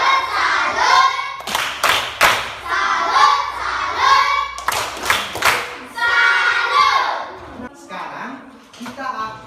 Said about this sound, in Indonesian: kita berikan tepuk salut buat kelompok